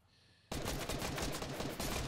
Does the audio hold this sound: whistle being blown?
no